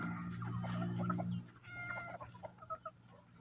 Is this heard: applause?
no